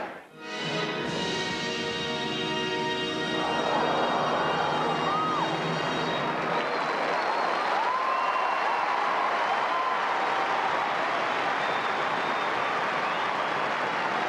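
An arena crowd at the 1988 Winter Olympics in Calgary's Saddledome applauds a figure skating pairs performance, a broad, sustained roar of clapping and cheering that swells and holds steady with a few whistles rising above.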